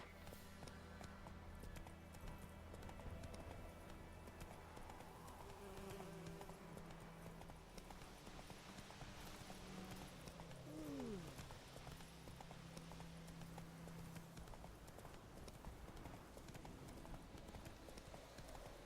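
Horse hooves trot in a steady clip-clop rhythm through The Witcher 3, riding at a moderate distance over a constant background bed of game ambience, with a brief rising chirp midway and no talking.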